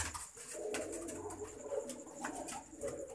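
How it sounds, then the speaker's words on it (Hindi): Pigeons cooing softly nearby, low murmuring calls repeating over faint background noise. "कबूतर हम उनके लिए डाल रहे हैं"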